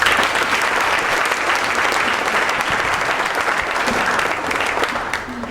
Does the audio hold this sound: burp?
no